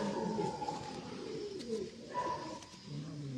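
White pigeons coo in soft, repeated low throaty phrases close by, over steady background noise, on a rooftop.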